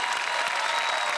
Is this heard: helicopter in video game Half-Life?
no